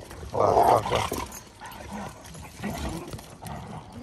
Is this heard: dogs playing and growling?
yes